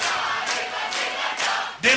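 A concert audience sings along to "Dirlandaa" in a loud, continuous crowd chant, swelling in rhythmic waves.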